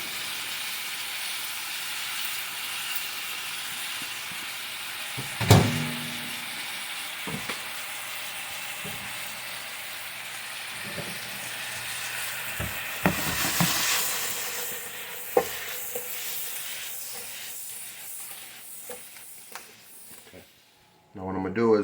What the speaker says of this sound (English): Toss the onions up in there and let it cook for a few minutes